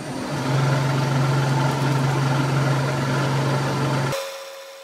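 A powered lathe slotter makes its final cut, a steady motor hum with a low tonal drone running for about four seconds before cutting off abruptly, leaving a faint ringing tone.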